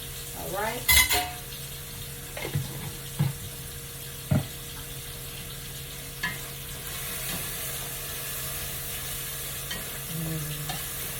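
A tablespoon of garlic sizzles in a pan for smothered green beans, a low steady fry broken by several sharp clanks and scrapes of stirring, close and fairly loud.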